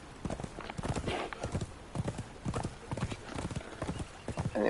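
Horse hooves galloping in the video game Conan Exiles on the Isle of Siptah, a steady rapid clip-clop rhythm with snorts, moderately close and without talk.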